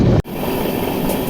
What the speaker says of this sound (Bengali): ট্রেন এবার কিন্তু একদম জঙ্গলের মধ্যে দিয়ে যাচ্ছে